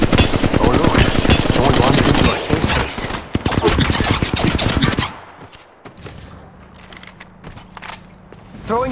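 Loud, rapid automatic gunfire from the Apex Legends Mobile video game, dense bursts of shots for about five seconds, then a quieter stretch of game ambience with a low hum and faint scrapes.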